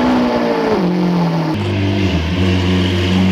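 A Lamborghini Aventador engine revs hard early in the morning, a loud, close, steady roar that drops in pitch midway and settles into a deep, throbbing rumble.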